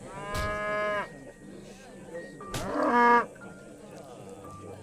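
A cow moos twice in the video game Age of Empires 3, each moo a long, drawn-out low call about two seconds apart, loud and near over a quiet background.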